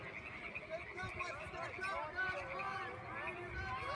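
Frogs croak steadily near a high school soccer field, a dense chorus of rasping calls under the murmur of a crowd and a commentator talking during the match.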